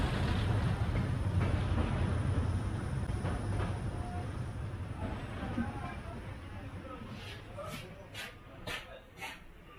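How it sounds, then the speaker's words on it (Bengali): A train runs fast, its steady low rumble and rattle filling the whole stretch, with a few brief high squeals or whistles near the end. "ট্রেন ছুটছে বেশ জোরে"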